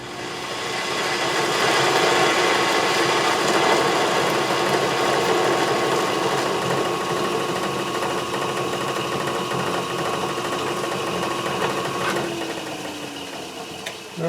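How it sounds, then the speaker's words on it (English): A power tool runs steadily for a long stretch while cutting threads down for a homemade wood lathe tailstock, a loud, close, continuous whine that dips in pitch near the end before stopping, with no talking. "I cut that down to about a 1/4 inch of threads left"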